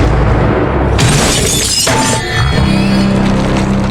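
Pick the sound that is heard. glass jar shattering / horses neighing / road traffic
glass jar shattering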